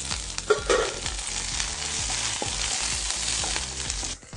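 Urad dal and chopped green chillies fry in a pan for a Kerala-style carrot stir-fry, a steady close sizzle under rhythmic spoon scrapes and stirring knocks, with no one speaking.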